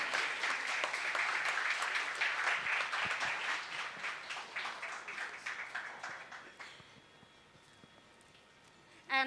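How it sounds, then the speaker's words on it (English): A hall audience at an education conclave gives a big round of applause that starts full and dense, then gradually thins and fades out over several seconds, ending with a brief sharp sound. "A big round of applause, ladies and gentlemen."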